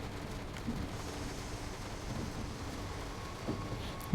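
Steady rain in the train driving game Train Sim World 3, a dense, even hiss with a low rumble beneath, continuous and unbroken, with no talking.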